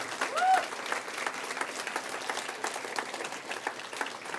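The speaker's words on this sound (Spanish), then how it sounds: "¿Le puedo dar un aplauso fuerte al Señor?" A church congregation at a Spanish-language sermon applauds strongly and steadily, dense clapping from many hands filling the room for several seconds with a faint voice briefly over it.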